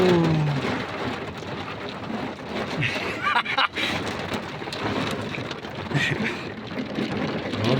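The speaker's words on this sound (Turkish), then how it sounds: "Öyle bir yağmur başladı ki ne siz sorun nereden söyleyeyim" Heavy rain pouring down during a storm in Ankara, a dense continuous hiss of drops hitting surfaces, with a rumble of thunder and a person exclaiming nearby.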